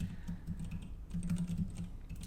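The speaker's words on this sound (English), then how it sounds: "So the typing is exciting." Programmable computer keyboards clatter with quick, uneven keystrokes, rapid clicky taps in bursts, quiet and close, with no one speaking.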